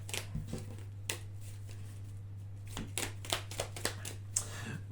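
Tarot-style cards being shuffled by hand during a reading: a quick run of crisp papery riffles and flicks, mostly in short bursts toward the end, close and fairly quiet over a steady low hum.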